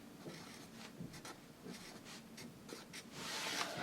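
A pen writes a word on paper, close and soft, with quick scratchy strokes in irregular bursts and no talking over it.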